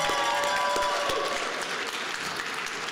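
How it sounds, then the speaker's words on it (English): Audience applause at a Black History Month opening ceremony at the NC Museum of History, steady close clapping from a crowd that tapers slightly toward the end. "Let's give them all a round of applause again."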